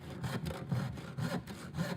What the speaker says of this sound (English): So, we start sawing this board